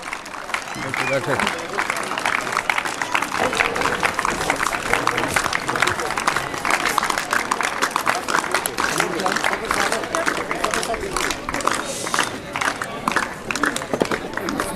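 An audience at a senior cadet appointments ceremony breaks into sustained, dense applause, a steady wash of clapping from many hands, with some crowd noise mixed in.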